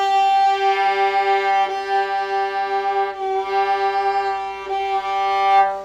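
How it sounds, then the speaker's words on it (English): Violin double stop in tune, with an octave sounded against the open string below it, several sustained bowed notes that ring clean and resonant with small breaks at each bow change. "that's an octave, and if they're in tune, they should sound really clean like this."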